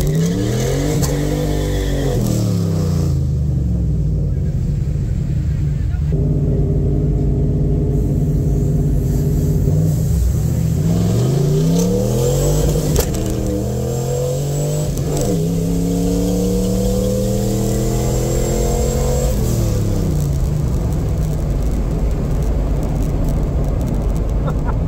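A drag car accelerates hard on an eighth-mile run, its engine climbing steeply through each gear with clear drops at every shift, loud and close throughout.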